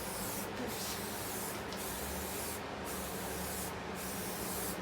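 Close, continuous hiss of spray paint laying the fifth and final coat during repairs on a Tahoe, steady with brief dips in rhythm as the can sweeps back and forth.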